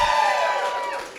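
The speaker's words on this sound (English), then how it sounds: "who here would describe themselves as disorganized, maybe a little bit awkward, and prone to oversharing? Give me a cheer." Comedy show audience cheering and whooping in response to a call from the stage, a loud crowd roar that fades over about a second, with no talking over it.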